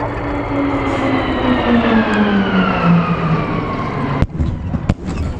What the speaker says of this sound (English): get your cameras ready for this very special fly past